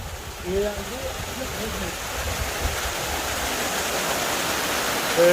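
Water flowing through stone channels at Baltit Fort in Hunza, a steady rushing wash that stays continuous throughout, with people talking faintly over it near the start.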